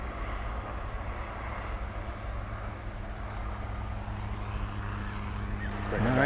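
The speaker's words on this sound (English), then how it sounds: "hear a propeller plane" Propeller plane at DFW Airport at night, a steady droning engine hum held throughout and swelling louder at the very end as it nears.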